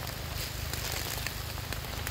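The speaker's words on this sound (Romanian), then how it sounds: "ce ploaie torențială!" Torrential rain pours down steadily at a carp fishing competition at Lake Balaton, Hungary, a dense, continuous hiss and patter that stays loud and unbroken throughout, with no talking.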